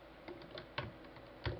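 Key presses on a computer keyboard while working in 3ds Max, a few quiet separate clicks with a sharper double tap near the middle and another at the end, alone without talk.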